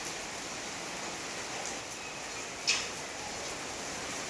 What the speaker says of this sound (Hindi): और ये फाइनली हो गई तेज़ वाली बारिश